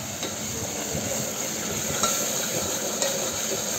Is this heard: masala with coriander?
yes